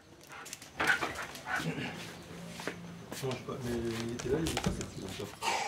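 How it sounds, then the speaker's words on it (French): A police sniffer dog searches a house during a drug raid, giving soft whimpers and short yips while people talk nearby. "Le chien cherche et doit trouver."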